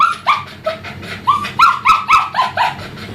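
A puppy at a groomer's whimpers and gives several high yips and short barks in an uneven run, close by and fairly loud, with no talking over it.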